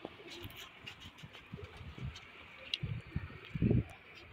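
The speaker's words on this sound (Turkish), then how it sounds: "Ben kuşlar da burada." Low, soft pigeon cooing rises near the end over light rustling ambience, with a few quieter coos earlier and faint chirps above.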